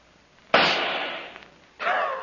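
A single loud pistol shot fired in a duel, a staged sound effect: a sharp crack with a long decaying tail, then a second burst of noise near the end.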